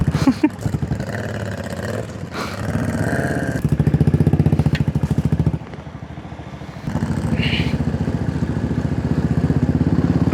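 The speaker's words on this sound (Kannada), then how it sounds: "TVS ಅವ್ರು ಹಿಂದಿಂದ ವ್ಯಾ ಸೌಂಡ್ ಮಾಡ್ತಾ ಬರ್ತಿದ್ದಾರೆ." A TVS motorcycle engine runs loud and close on an off-road trail near Kudremukh, with a steady throbbing drone that rises and dips as the rider varies the throttle, continuous for about ten seconds.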